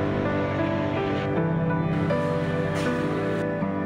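The Teesta river near the Sikkim border, a loud, steady rush of flowing water close by that fills the whole clip, with no talking.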